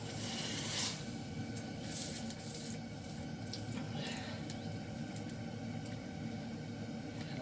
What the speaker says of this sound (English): I'm gonna flash it in the water first.